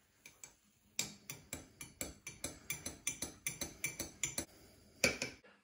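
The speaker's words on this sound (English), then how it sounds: "you do need to stir it, because all you're getting is the coffee sitting at the top" A spoon stirs coffee with creamer in a cup, clinking rapidly and steadily against the sides in a long run of bright, evenly spaced ticks, close and clear.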